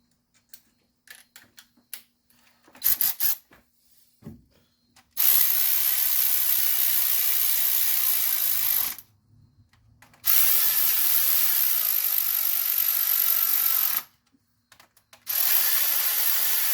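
A ratchet driving a 7mm socket on the engine of a 2008 Ford F350 with a 5.4 engine, giving a few quick clicks and then long runs of rapid, close ratcheting, each burst stopping abruptly.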